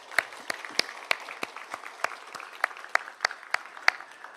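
Scattered, sparse hand clapping from a small church congregation welcoming a pastor during a Sunday service, a dozen or so separate crisp claps spread unevenly over a few seconds, fairly quiet, with no voices.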